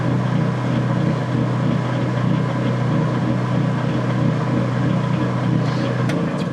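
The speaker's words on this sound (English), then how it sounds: "generator sounds great out there" A portable generator runs steadily outdoors while powering a washing machine, giving a loud, constant engine drone with a hum that barely changes from start to finish.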